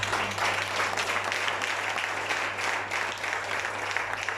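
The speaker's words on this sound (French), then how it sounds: "Acclame Jésus." A church congregation applauds Jesus with sustained, dense clapping from many hands, a steady wash of applause lasting the whole stretch over a low constant hum.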